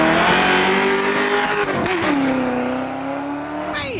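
A Mustang GT with four-link suspension launches hard down a drag strip, its loud engine roaring and rising in pitch through the run, tires briefly squealing, then a sharp pitch drop as it shifts gear near the end.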